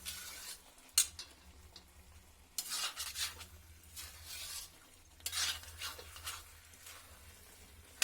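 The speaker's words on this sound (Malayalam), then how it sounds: "ഇനി ഇത് നല്ലോണം മിക്സാക്കി ചിക്കനുമായിട്ട് ചേർന്ന്" Chicken and roasted coconut are stirred in a pan, with repeated close scraping strokes of a utensil over a soft, steady sizzle and occasional light clinks, and no talking.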